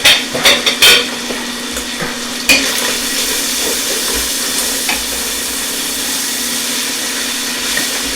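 Sliced onion and celery sauté in a pot, giving a steady close sizzle with a few sharp clinks of a stirring utensil at the start.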